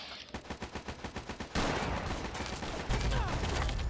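Gunfire in the video game Fallout: New Vegas: a rapid run of evenly spaced shots gives way to a dense, loud, continuous barrage that swells near the end.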